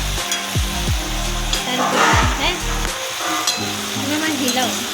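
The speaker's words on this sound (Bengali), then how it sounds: "মা আবার দুবার করে নেড়ে ছেড়ে নেব যাতে সিদ্ধ হয়ে যায়।" Potatoes and eggplant stir-fried in a pan, a steady loud sizzle with repeated scraping strokes of a spatula stirring the vegetables.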